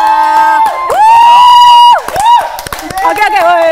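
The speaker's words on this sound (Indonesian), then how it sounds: "biasanya Kak Kori kalau teriakannya kayak gini itu minta opening number" Studio audience cheering and shouting as a guest is welcomed onto a talk show, loud sustained high-pitched screams and whoops that break off, then return in shorter bursts.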